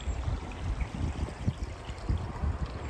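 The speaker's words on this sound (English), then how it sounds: "Nice wee river somewhere in Scotland." Small river somewhere in Scotland flowing steadily with a soft, continuous rush and gentle burbling, close by and fairly quiet, with no one talking.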